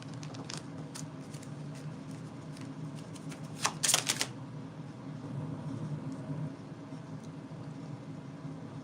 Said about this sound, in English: Now I'm gonna keep shuffling